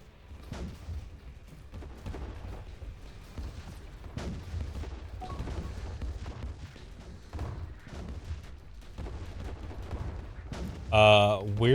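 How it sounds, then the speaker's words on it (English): Quantum torpedoes striking targets in the space strategy game Distant Worlds 2: a rapid, uneven barrage of booming impacts and thuds that runs continuously, ending in a brief bright tonal burst, with a voice talking underneath. "So those are the quantum torpedoes hitting these things"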